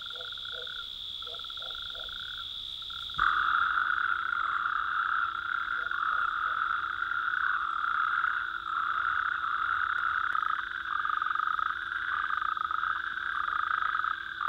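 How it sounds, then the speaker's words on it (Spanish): Common toads calling at night from ponds and small pools in the Picos de Europa, a steady chorus of overlapping croaks and trills that swells louder after a few seconds and continues without pause, with no voices. "los sapos comunes se reúnen en las charcas y lagunillas para aparearse"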